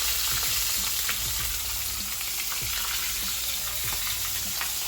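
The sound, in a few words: fish frying in oil on the stove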